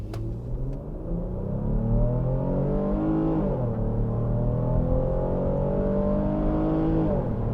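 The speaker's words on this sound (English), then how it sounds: "let's just accelerate, see how it sounds, and see how quickly it goes" A 2021 Jeep Cherokee Latitude LUX with the Pentastar V6, in sport mode, accelerating hard from close inside the cabin, a loud steady engine drone rising in pitch through a gearshift and climbing again, with no talking.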